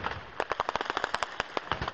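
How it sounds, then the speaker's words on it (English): Rebel machine gun and anti-aircraft fire in a combat zone: rapid bursts of sharp shots in a quick irregular rhythm, moderately distant, no voices. "It provokes an eruption of machine gun and anti-aircraft fire from the rebels"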